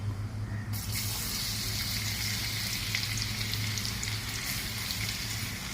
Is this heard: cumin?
yes